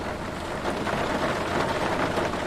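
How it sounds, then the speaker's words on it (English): Simulated rain from the X-Plane 11 flight simulator, a steady dense broadband hiss of rainfall that stays even and fairly loud throughout, with no voices. "the sound of rain."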